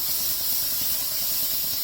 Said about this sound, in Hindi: जैसे हमने प्याज को भुना है वैसे ही हम टोमेटो को अच्छे से भूनेंगे